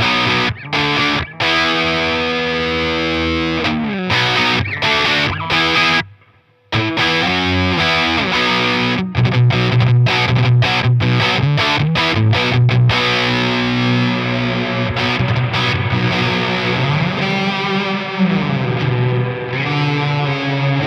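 Electric guitar runs through a Walrus Audio Melee pedal set to plain distortion with no modulation or reverb, giving a loud, thick, sustained fuzzy tone with chord changes and one brief silent break partway through.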